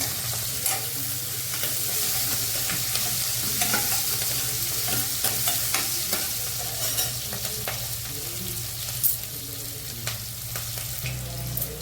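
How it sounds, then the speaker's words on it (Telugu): Green chilies, garlic and onions frying together in a pan, a dense close sizzle with continual stirring and scraping strokes and the odd clink over a low steady hum. "వేగినవి పచ్చిమిరకాయలు, వెల్లుల్లిపాయలు, ఉల్లిపాయలు ఇవన్నీ వేసి బాగా వేగాలి"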